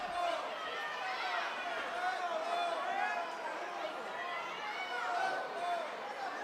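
A basketball crowd at a Vikings versus Grizzlies game keeps up a steady, loud roar of voices and shouting after a timeout call, with no single voice standing out.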